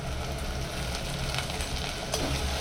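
Chopped onions and curry leaves sautéing in a pan for a vegetarian curry, a dense, loud sizzle throughout with occasional scraping of a stirring spoon.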